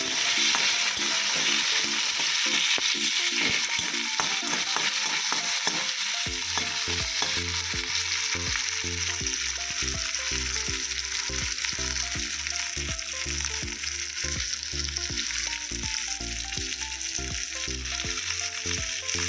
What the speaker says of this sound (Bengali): রসুনটা ভেজে নিলাম, একটা শুকনো লঙ্কা কুচি করে দিয়েছি, আর পেঁয়াজ কাঁচা লঙ্কা দিয়ে দিলাম।